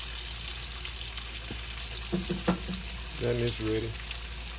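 Thin pork chops fry in a pan, a steady low sizzle close by with a few clinks, while someone speaks briefly over it.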